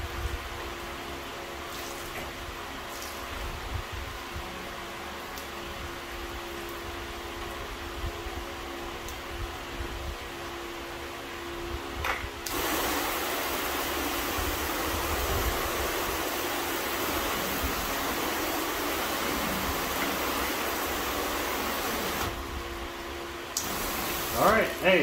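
Water spraying over a car during a wash, a steady hiss that jumps louder and broader about halfway through and holds, with brief lulls near the end.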